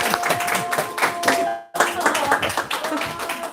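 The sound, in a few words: audience clapping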